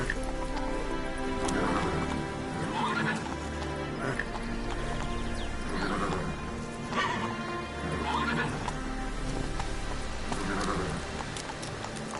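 Geralt's horse Roach in The Witcher 3 neighs and whinnies with rhythmic clip-clop hoofbeats under a steady patter like rain, sustained throughout.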